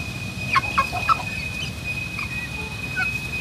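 Young Índio Gigante chickens cluck softly in a few short, scattered calls over steady background hum, fairly faint and without talking.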